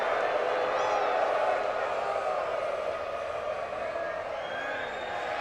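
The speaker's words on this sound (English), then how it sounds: "this crowd's starting to make some noise" A baseball crowd at a college game between Arkansas and Tennessee keeps up a steady, distant roar with scattered cheers and whoops under continuous play-by-play commentary.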